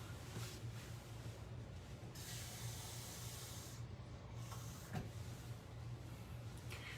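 Tap water runs steadily into a measuring cup to fill it halfway for a crepe batter, a quiet continuous hiss and splash with a few small clinks.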